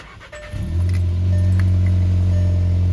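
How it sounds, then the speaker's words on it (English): A blue Mazda car, running on a jump-start, cranks briefly and catches, then settles into a loud, steady idle close by. A faint jingle of keys sounds near the start. "start the car up"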